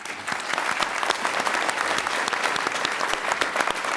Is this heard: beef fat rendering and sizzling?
no